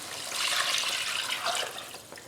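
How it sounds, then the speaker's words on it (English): Four cups of warm vegetable stock pour into a hot pan for a peanut stew, making a continuous close, loud splashing hiss that tapers slightly toward the end. "this is 4 cups of vegetable stock"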